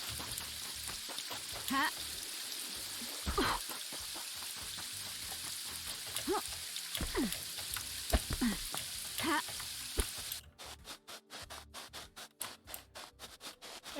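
Steady rain hisses across a scene in the video game Paradise Killer, with brief laughter over it, then cuts off abruptly, leaving a quieter, rhythmic pulsing.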